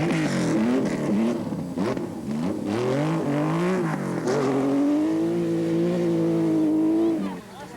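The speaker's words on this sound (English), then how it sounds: "Another new Greek talent, Stratisinio, neatly attacking the corner and wasting no time." A 1985 Acropolis Rally car attacks a corner on a gravel stage, its engine sounding loudly and steadily with pitch rising and falling through gear changes, then easing off near the end, while a voice talks over it.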